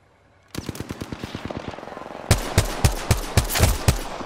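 Automatic gunfire during an Apex Legends firefight: a fast rapid burst of evenly spaced shots, then heavier, louder, slower booming shots, all close and loud with no talking.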